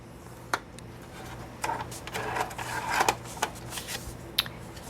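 Paper is scored at quarter-inch lines for a gatefold card, with soft scraping strokes and sharp taps of a scoring tool and board, close and fairly quiet, in short irregular bursts.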